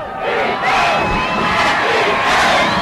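A high school football crowd rising to its feet, roaring and cheering loudly with massed shouts that swell and hold, filling the whole stretch from a distance.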